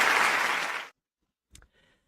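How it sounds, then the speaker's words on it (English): An audience gives a round of applause for two birthdays: a dense burst of clapping that fades out within about a second, followed by silence and a few faint, brief noises. "So we will give a round of applause for the 2 birthdays."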